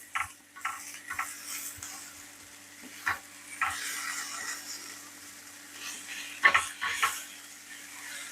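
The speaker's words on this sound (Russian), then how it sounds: "Сейчас тщательно все перемешаем." Spices, onion and carrot are stirred in a pan over low heat for a plov, with a soft sizzle under scattered scraping and clinking utensil strokes, a few sharper knocks standing out.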